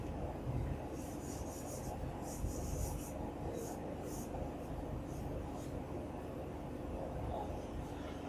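Someone writes an equation on a board, giving a steady scratchy rubbing with short, brighter strokes that come and go, all set against a constant low background hum.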